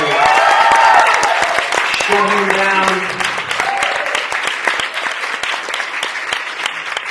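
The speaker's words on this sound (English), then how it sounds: "one more round of applause" A crowd claps steadily and loudly, with a voice speaking over the applause at the start before it continues alone.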